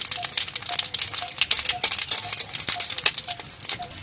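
Dried chilli, bay leaf and cumin tempering in hot oil in a pan, a loud, steady crackling sizzle with rapid ticking pops as the spices are stirred, close and unbroken.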